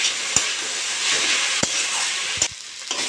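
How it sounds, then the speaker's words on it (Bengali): Drumstick flowers with potato, turmeric and salt fry in a pan with a loud, steady sizzle, broken by a few sharp clicks of stirring against the pan, close up and without talk. "হলুদ দিয়ে দেবো, তার মতো লবণ দিয়ে ভালো করে ভেজে নেবো।"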